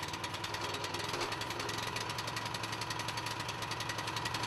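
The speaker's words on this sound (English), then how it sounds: "When the engine starts, open the throttle and allow the engine to reach full speed." An EDCO CMP-8 concrete planer's petrol engine runs at full speed, a loud, steady, rapidly pulsing mechanical rattle and hum that continues evenly throughout with no voices.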